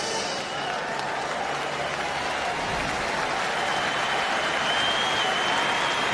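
A cricket crowd at a World XI versus West Indies T20 match gives a departing bowler sustained applause, a dense, steady wash of clapping and cheering throughout.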